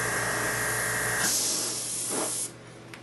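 An airbrush sprays model paint at 15 psi in light passes over a Skyshield landing pad, giving a steady close hiss that shifts in tone midway and then cuts off near the end.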